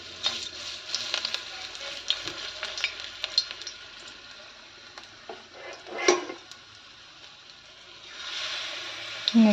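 Food frying in a hot kadai, a steady broad sizzle with scattered stirring clicks and a louder burst midway, close by and continuous throughout.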